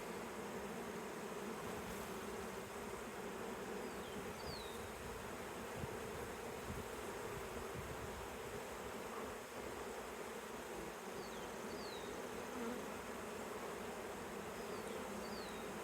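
A swarm of bees clustered on a tree trunk buzzes in a steady, dense drone that holds throughout, with a few faint bird chirps in the background.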